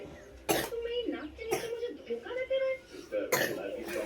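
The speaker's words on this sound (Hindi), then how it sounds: "देखो खांसी हो रही है," A young child at home coughs in several sharp, close bursts, three clear hacks spaced over a few seconds, with a voice talking softly in between.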